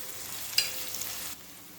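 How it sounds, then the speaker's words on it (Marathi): Onion, garlic and curry leaves sauté in a pan with a steady, close hiss of frying oil and a brief crackle, dropping to quieter sizzling at the end. "आता व्यवस्थित असं हे परतून घ्यायचं आहे। कांदा जो आहे तो कच्चा ठेवायचा नाही, छान असा गुलाबी परतून घ्यायचा आहे।"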